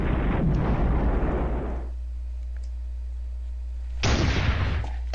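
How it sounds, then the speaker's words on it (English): Artillery explosions in a World War strategy video game, two loud booming bursts with rumbling decay separated by a quieter gap, no talking. "More artillery on my anti-tank unit."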